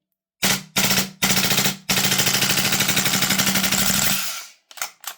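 A KWA MP9 gas magazine fires a Vorsk VMP-2 gas blowback airsoft rifle: three short loud bursts, then a long sustained full-auto stream of rapid snapping shots that slows and weakens as the gas runs out, with a few sputtering shots at the end.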